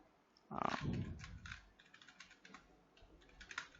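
Keys on a computer keyboard clatter during JavaScript coding, starting with a louder burst of strokes followed by a lighter, irregular run of taps, close and alone without talk.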